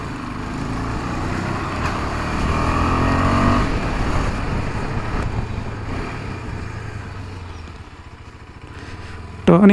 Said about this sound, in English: Post 5000 RPM, the engine becomes very smooth